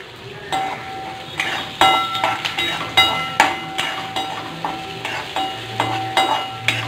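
Onions for mushroom soup fry in a pan, a soft sizzle broken by repeated clinks and scrapes of a spoon stirring against the metal.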